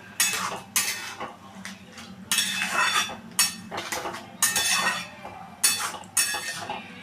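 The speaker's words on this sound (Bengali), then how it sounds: "এটার সাথে ভালো করে মশলাটা আমি মিশিয়ে দিলাম" A spoon stirs spices into masoor dal in a pot, making about eight separate bursts of wet scraping and clinking with short pauses between strokes, close and fairly loud.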